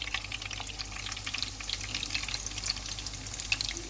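Minced-meat kebabs fry in a pan, a soft, steady sizzle and crackle with small pops, fairly faint and close, with no talk.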